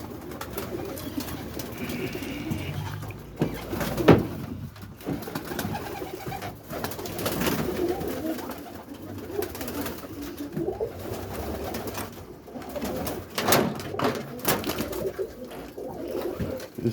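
Pigeons in a loft, among them young lavender, light cream and lace-type birds, coo softly and continuously at close range on a Monday morning, with scattered wing flutters and shuffling noises throughout.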